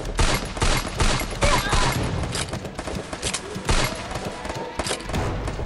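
Rapid bursts of Free Fire video game gunfire, loud and close, with repeated shots and volleys throughout and a busy mix of effects behind them.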